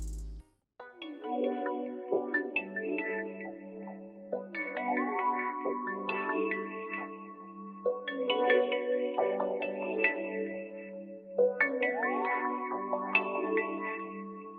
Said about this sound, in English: I got this Analog Lab preset from a Prod Haze bank